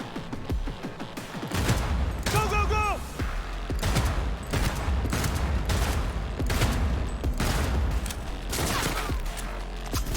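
Loud, steady pistol gunfire in the video game Cyberpunk 2077, with rapid repeated shots running throughout. Voices speak over the action partway through.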